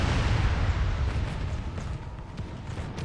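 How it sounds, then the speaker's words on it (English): Cannons fire in a Medieval 2 Call of Warhammer battle, a dense rumbling barrage of low booms over continuous battlefield din, with no clear gaps between shots. "Now the cannons are firing."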